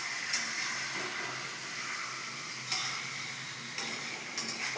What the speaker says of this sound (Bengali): এটা ভালো করে মিশিয়ে চাপা দিয়ে দেব